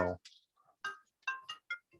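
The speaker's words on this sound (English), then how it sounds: "My phone is ringing" A mobile phone ringtone plays during a group call as a series of short, bright tonal chirps, starting after a brief burst of voice.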